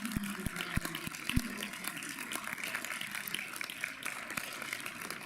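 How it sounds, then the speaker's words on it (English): An audience applauds at a distinguished graduate ceremony, a dense, even patter of clapping that continues throughout, with a few sharper thumps near the start. "I think we should give her a round of applause"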